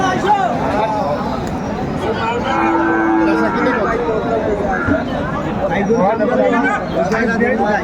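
A seven-month-old Friesian bull calf moos once at a busy village cattle market in Aftabganj, its call rising above constant crowd chatter and nearby talking.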